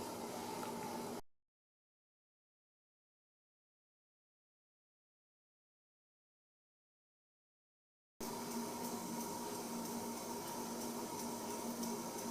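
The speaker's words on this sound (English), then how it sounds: "So this little hissing sound is the first sign that the pressure is building up" Steady broadband hiss from a pressure cooker over a high flame on the stove as pressure begins to build, heard briefly at the start and again for several seconds at the end with a silent gap between.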